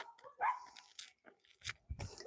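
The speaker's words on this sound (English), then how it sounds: "those dogs are having a fight" Several dogs bark, yip and snarl in a scuffle at some distance, with irregular bursts of barking and growling spread across a couple of seconds.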